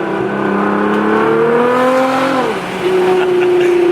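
Aftermarket exhaust on a Toyota A90 Supra revving steadily, its engine tone climbing for over two seconds and then dropping back to a lower held note, loud and close, with no one speaking.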